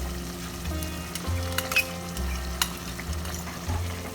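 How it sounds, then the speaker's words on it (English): Mutton sautéing with beaten yogurt in a pan for green hariyali mutton curry, a steady close sizzle broken by scraping stirs and an occasional clink of the spoon against the pan, with no talking. "Mix it properly. Saute it for a few more minutes."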